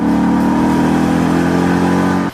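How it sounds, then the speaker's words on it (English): A loud, steady engine rev from a 2011 Ford Mustang GT held close by, a deep throaty drone that cuts off abruptly near the end. "We just love this engine."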